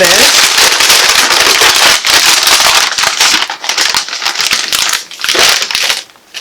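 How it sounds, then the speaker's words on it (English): Plastic packaging from a fabric haul being crinkled and crushed during unpacking, dense loud crackling up close in bursts with brief pauses. "There's going to be some crinkling, but we're going to work through this."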